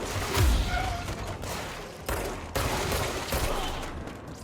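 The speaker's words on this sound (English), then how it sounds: "I have to get used to shooting in real time again" Gunfire in the action game Control: a steady sequence of close, heavy shots and impacts with a few sharp, louder bursts, over a continuous rumbling background of combat noise.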